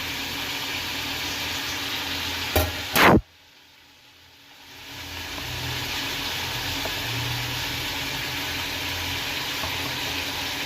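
Cauliflower and mixed vegetables fry with spices in a pan, giving a steady broadband sizzle that briefly cuts out after a couple of sharp clicks, then swells back to a constant hiss.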